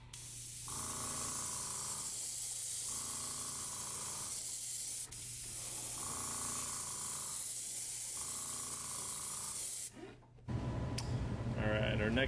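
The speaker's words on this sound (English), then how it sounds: "a little bit of white in the paint gun, and then I mix in some yellow" Paint spray gun misting white and then yellow paint onto a fishing lure, a steady close hiss in repeated bursts of about two seconds with brief pauses, ending in a short clatter of handling.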